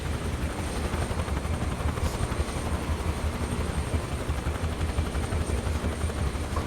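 A helicopter in Microsoft Flight Simulator 2024 roars steadily with a dense, thumping rotor chop and engine whine, loud and unbroken throughout with no voices.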